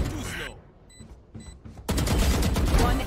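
Rapid gunfire in the tactical shooter Valorant, with a short burst at the start, a few sparse shots, then dense sustained firing and loud game noise that fills the last second, with a voice talking over it.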